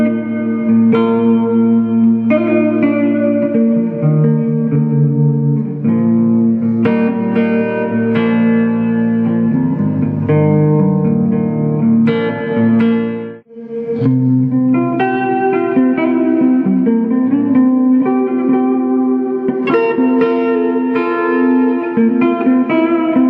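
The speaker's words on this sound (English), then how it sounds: "here it's just a real subtle, you know, additional reverb" Guitar chords ring out through a TC Electronic Hall of Fame 2x4 reverb pedal, a gentle wash of subtle reverb trailing behind each strum, played steadily with a brief pause midway.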